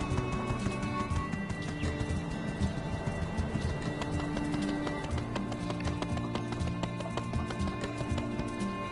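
A horse gallops in My Time at Sandrock, its hooves clip-clopping in a steady, brisk rhythm that stays close and loud throughout, with no talk.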